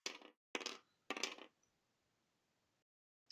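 Dice rolled during a board wargame session, three quick rattling clatters in close succession on a hard surface, followed by quiet, with one more brief click at the end.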